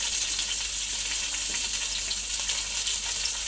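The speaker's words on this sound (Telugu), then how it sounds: "ఫ్రై అయిన కాసేపు అయిన తర్వాత కొంచెం కొత్తిమీర, పుదీనా వేసుకొని ఫ్రై చేసుకోవాలన్నమాట" Biryani spices frying in hot oil with fresh coriander and mint leaves, a loud, dense, continuous sizzle held close and steady throughout.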